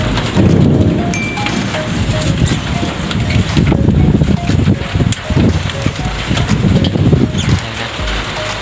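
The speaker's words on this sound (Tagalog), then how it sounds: "Ulan na dito." Heavy rain pours down steadily with rumbling thunder rolling through during a rainy-season storm, loud and close, with brief bursts of voices underneath.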